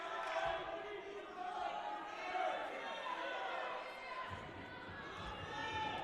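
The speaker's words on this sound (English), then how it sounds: "Crowd making some noise here at the Arc Arena." Crowd noise fills the Arc Arena during a women's basketball game against Farmingdale State, a steady murmur of chatter and cheering with a commentator talking over it and a low thud of play near the end.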